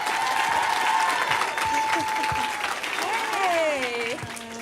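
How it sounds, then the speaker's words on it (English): A talk-show studio audience claps for a guest actress's entrance with sustained, dense applause and some cheering, while a host's voice talks over it partway through. "let's give a warm hand of applause for Miss Rashida Jones."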